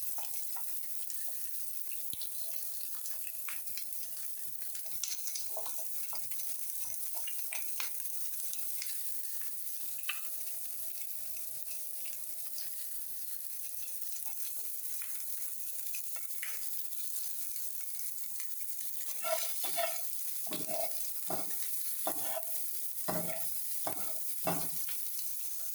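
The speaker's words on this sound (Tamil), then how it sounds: "அதுக்கப்புறம் பெரிய வெங்காயம் போட போகிறோம்." Large onions fry and are stirred in a pan while making mutton egg noodles, giving a steady close sizzle with occasional scrapes, then louder clattering stirs toward the end.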